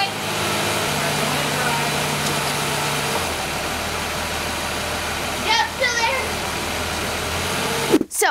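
A straight-six engine fitted with an Autolite 1100 carburetor idles steadily up close, its low hum shifting slightly as it is put in drive, with brief squeaks and a sharp knock near the end.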